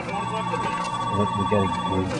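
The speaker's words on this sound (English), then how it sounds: "That's your phone." A telephone rings steadily and fairly loudly in a room, with a constant electronic tone and some muffled background voices.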